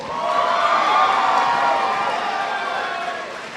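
A boxing-event crowd cheers and claps for the boxers after a fight, giving a loud, steady wash of cheering and shouting that fades slightly toward the end.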